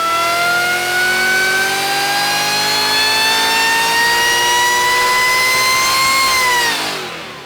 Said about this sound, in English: it's got our TVS 2650 supercharger